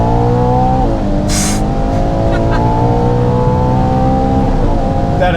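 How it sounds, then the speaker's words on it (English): A Ferrari Purosangue SUV under hard acceleration from a slower speed, its engine droning loud and steady with a rising pitch, heard from inside the cabin, with a brief hiss partway through. "Gonna give it some beans just here at a slower speed."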